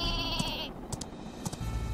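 A cartoonish sheep bleat from the sheep weapon in the video game Worms W.M.D., heard in short bursts over busy game sound effects and background music.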